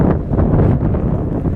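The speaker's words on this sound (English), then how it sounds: "Kind of windy." Gusty wind rumbles across the microphone outdoors in a common area in Fredericksburg, Texas, a loud, close buffeting that swells and dips without a break.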